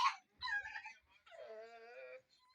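Puppies whimper and yip close by in a few short bursts, with a longer whining cry in the middle and a brief final squeak.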